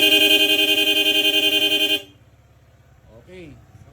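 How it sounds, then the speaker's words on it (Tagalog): A Sager horn on a QJ ATR160 scooter blares loud and close in rapid mode, a fast pulsing electronic tone for about two seconds, then cuts off abruptly. A brief voice follows over a low idling hum. "Then switch to Sager horn."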